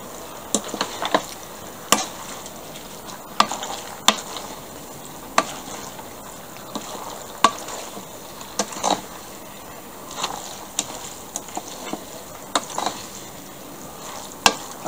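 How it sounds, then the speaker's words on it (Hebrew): A spoon stirs pasta with mixed vegetables in a pan, giving repeated close scrapes and taps at an irregular, unhurried rhythm over a soft, continuous sizzle. "אני מערבבת את הכל"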